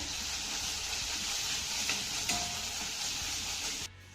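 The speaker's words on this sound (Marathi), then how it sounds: "लसूणची पेस्ट देखील आपल्याला एक मिनिटभर चांगली परतून घ्यायची आहे" Ginger-garlic paste sautés in a pan, giving a continuous soft sizzle and hiss with a couple of light stirring taps, steady and fairly quiet before dropping off just before the end.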